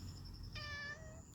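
A stray cat gives a single faint meow, a thin rising-then-falling cry heard close against quiet background hiss.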